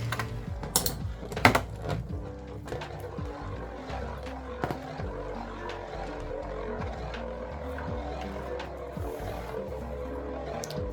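Beyblade X spinning tops battle in a plastic stadium, with a busy rattling clatter of repeated sharp clicks and collisions throughout, a few louder hits standing out near the start.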